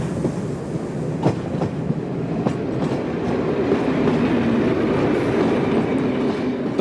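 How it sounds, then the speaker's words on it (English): A Jubilee class steam locomotive, Cochrane, rolls past with a steady, loud rumble and scattered clicking wheel beats that hold throughout, with no voices. "Oh, by the way, the Jubilee passing here is Cochrane."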